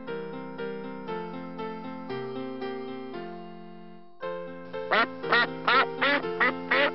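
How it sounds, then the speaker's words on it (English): A duck quacks repeatedly in a quick run of loud, nasal calls, following a stretch of sustained musical tones, in an animated children's educational clip. "Duck."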